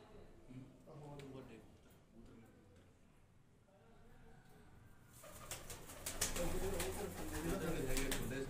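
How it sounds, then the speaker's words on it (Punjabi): Young pigeons on a rooftop loft perch coo softly, with wing flaps and a rising flurry of activity in the second half; people talk quietly in the background. "ਇਹ ਕਬੂਤਰ ਹੈ ਕਬੂਤਰੀਆਂ"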